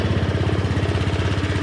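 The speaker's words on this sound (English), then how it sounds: "So let's start the SH150. Fuel injected." A fuel-injected Honda SH150 scooter engine chugs close by with an even, rapid low-pitched pulse, steady and loud, with no voices over it.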